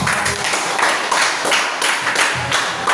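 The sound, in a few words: classroom applause for a group's presentation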